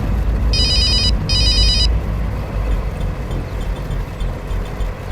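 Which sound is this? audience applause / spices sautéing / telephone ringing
telephone ringing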